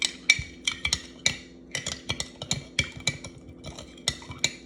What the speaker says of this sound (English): this is kind of loud, me stirring this